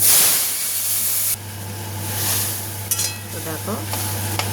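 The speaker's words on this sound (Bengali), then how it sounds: "এবার আমি শাকের তরকারিটাকে দিয়ে দেবো।" Dhundal shaak greens curry with potatoes hits a hot pan of fried garlic and bursts into a loud, steady hissing sizzle, followed by some stirring clatter. A voice briefly speaks.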